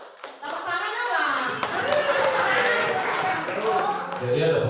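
A group claps hands together during a school meeting on positive culture, a dense, sustained patter filling most of the moment, with voices talking over it.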